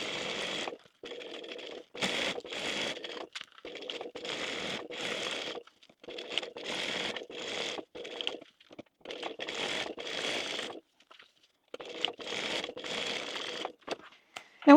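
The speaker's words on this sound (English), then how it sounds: "Then we're going to open that out and top stitch it along the bottom on this side." A sewing machine top-stitches along the bottom of a fish-shaped zip pouch, running in close, steady bursts of rapid whirring that stop and start repeatedly with brief quiet gaps between.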